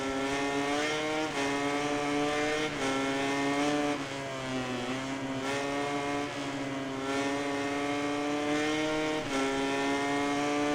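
MotoGP racing motorcycle in the MotoGP 19 video game, a loud, continuous high-revving engine whine that rises and drops through gear changes as the bike laps the track, with no voices over it.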